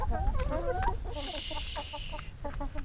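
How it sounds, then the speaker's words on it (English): A homestead chicken clucking and chattering up close, with a brief high hiss in the background partway through. "this is one of our chickens"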